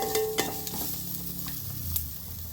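Onions sautéing in a small amount of oil, a soft continuous sizzle with a few quick scrapes and taps of a spoon against the pan, close and without talk.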